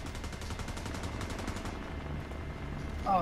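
Enemy gunfire crackles in The Division 2 at a drone crash site at night, a rapid burst of repeated shots for the first half, then a rumbling background with a brief sharp sound at the end.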